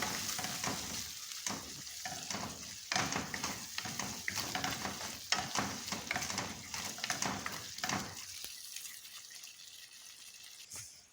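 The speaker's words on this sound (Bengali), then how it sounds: "ডিম দিয়া টমেটো দিয়ে আজকে রান্না করি" Eggs and tomatoes stirred in a hot pan, a steady loud sizzle broken by repeated scraping strokes of the spoon, fading to a quieter hiss near the end.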